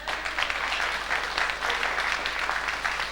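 Audience applause during a 1995 carnival sitting evening in a Dutch village hall, lively, moderately loud clapping in uneven pulses that continues throughout without speech over it.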